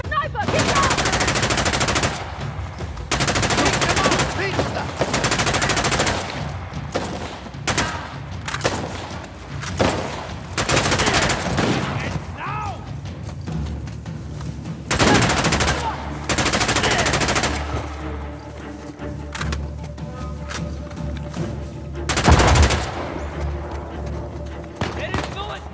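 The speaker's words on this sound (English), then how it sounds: "Fraser, they've sniped us. Get down!" Heavy gunfire and machine-gun bursts from the Uncharted: The Lost Legacy video game, loud repeated volleys and sustained rattling fire with thumps, broken by short gaps, with voices talking over the combat.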